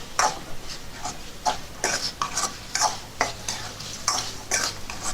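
Masala-marinated pepper chicken is stirred and fried in a pan, with a quick series of rhythmic scraping strokes over a light, steady sizzle.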